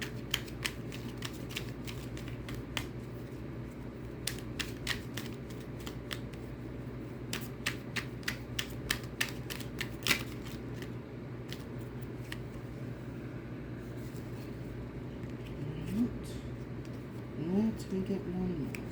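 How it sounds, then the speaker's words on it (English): Repeated crisp riffling and snapping of cards being shuffled, in quick bursts close by, with soft talking and a low hum underneath. "as I'm shuffling"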